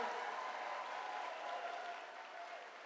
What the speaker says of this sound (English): Let's give another round of applause to Tulsi Gabbard.